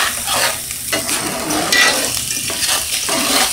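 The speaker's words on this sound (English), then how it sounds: "And my husband cooking some eggs." Eggs fry in a cast iron frying pan in a home kitchen, giving a steady, close, loud sizzle with crackling and occasional scraping as they are stirred; no one speaks.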